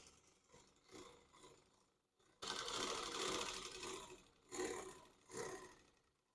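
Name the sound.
sewing machine stitching cloth, 95-T10 model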